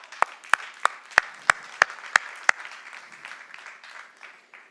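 Clapping during a Spanish-language church worship service: eight sharp, evenly spaced claps ring out close by, followed by a softer, scattered patter from the congregation that fades away.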